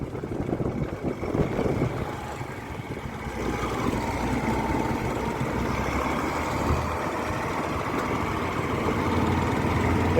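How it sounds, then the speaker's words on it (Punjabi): A combine harvester engine drones steadily in a wheat field on stony ground, a low, continuous rumble that holds fairly constant and swells slightly toward the end, with no talk. "ਹੁਣ ਜਾ ਰਹੀ ਜੀ ਆਪਣੇ ਕੰਬਾਈਨ ਇੱਧਰ ਨੂੰ"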